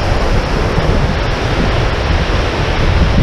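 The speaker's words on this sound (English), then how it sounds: "You get some wind coming off there." Steady rushing wind spray off a waterfall on a hike to Rainbow Falls and Beaver Meadow Falls, a loud continuous broadband roar with buffeting gusts on the microphone.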